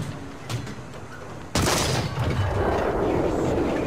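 A KV-1B tank gun fires in War Thunder with one sudden loud boom that rings on into a long rumbling decay, preceded by quieter engine and mechanical noise.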